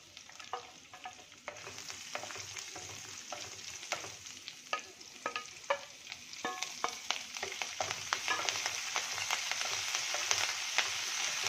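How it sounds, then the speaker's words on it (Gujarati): Garlic, green chili and ginger fry with cumin seeds in hot oil for spicy fried rice, a continuous sizzle that swells gradually, dotted with sharp pops, crackles and spoon scrapes, no voices. "આપણું જીરું ફૂટે એટલે આપણે લસણ લીલું મરચું અને આદું એ પણ ત્રણેય ઉમેરી દઈએ"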